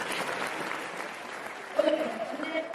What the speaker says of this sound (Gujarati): રિદ્ધિ માટે ફરીથી તાળીઓ.